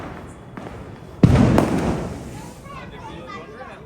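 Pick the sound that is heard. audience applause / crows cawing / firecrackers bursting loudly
firecrackers bursting loudly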